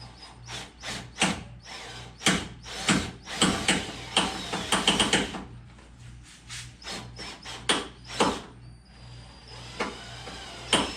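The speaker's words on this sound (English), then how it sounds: "What I'm going to do is drill into this and hopefully I can get this thing to come on out." An extractor bit drills into a Nissan 300ZX during removal of the A-pillar and roof rubber seal channel, giving rough, stuttering grinding bursts that start and stop repeatedly, loud and close.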